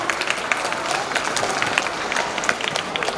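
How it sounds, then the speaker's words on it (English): A crowd at a 77th Independence Day celebration program breaks into steady, dense applause that stays close and sustained throughout with no pauses. "give them a great round of applause."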